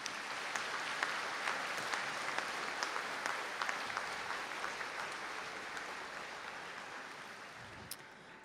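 Graduates at a conferring ceremony in Donegal receive steady, moderately distant applause from the hall, a continuous patter of many hands with a few sharper individual claps standing out.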